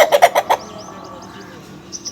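Chickens clucking in a backyard coop, a short run of four or five loud, rhythmic clucks up close at the start, followed by quieter background noise with faint chirps.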